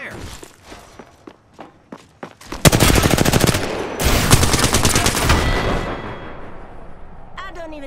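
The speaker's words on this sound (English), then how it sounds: "Phew, I am taking fire." Apex Legends battle gunfire: several sharp single shots at first, then sustained loud bursts of automatic fire crackling close by for several seconds before trailing off.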